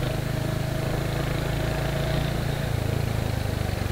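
Engine of a 2023 Royal Enfield Hunter 350 motorcycle while riding, a steady low mid-pitched drone with a sporty note, holding even and fairly loud throughout without talk.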